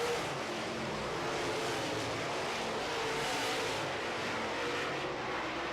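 Late model race cars circle a track together in a dense, continuous roar of engines that stays loud and steady without letting up.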